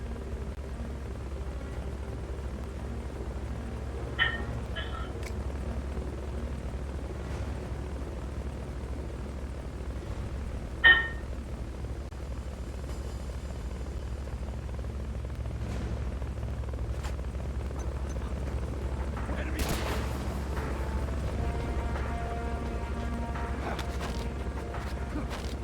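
Hind D helicopter in Metal Gear Solid: Peace Walker, a low, steady rotor thrum running throughout at moderate level, broken by a couple of sharp game effect blips and some faint crackly bursts later on.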